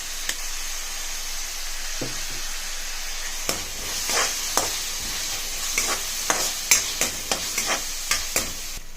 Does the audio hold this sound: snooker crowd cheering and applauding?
no